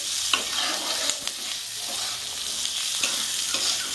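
Moong dal and fresh green chilies stirred in a hot frying pan, a steady bright sizzle with scraping spatula strokes every so often, close and fairly loud, no talking.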